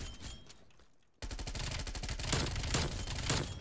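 Rapid automatic gunfire from a Groza rifle in Black Ops Cold War, a dense burst of shots that cuts in after a short lull and keeps going loud and continuous to the end.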